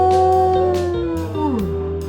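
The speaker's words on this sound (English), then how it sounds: "Is it a wolf? Yes, it is." A wolf's long, wavering howl, loud and up close, sliding slowly down in pitch, with a few overlapping yips and other howling voices behind it, heard as a recording in an animal identification game.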